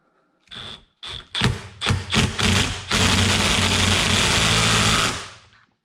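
DeWalt impact wrench fitted with a drill impact adapter, loud and close: a few short bursts and taps, then a sustained rattling hammer of impacts lasting about two seconds before stopping.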